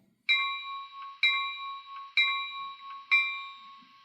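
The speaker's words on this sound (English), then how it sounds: "Here's the bell." A Walthers Mainline SD70M model locomotive rings its electronic bell in four even, bright strikes about a second apart, each tone ringing on and decaying before the next, clear and alone.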